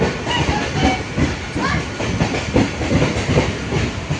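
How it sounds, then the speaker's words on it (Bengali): A Kolkata circular rail train pulls in bound for Majerhat, its wheels rattling and clacking loudly and close, with a rhythmic rumble and some hiss from the carriages. "আবার একটা চক্র রেল আসছে এই দেখো চলে এসছে মাঝহাট যাবে"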